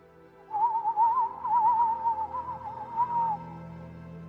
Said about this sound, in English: let out a soft, melodic whistle that sounded like wind through a hollow reed